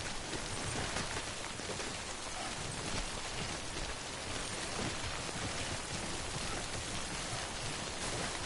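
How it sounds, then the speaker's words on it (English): Steady rain falls continuously in a video game, a dense hiss of drops on a surface, fairly faint and even throughout with no voices. "Uh-oh, it's raining."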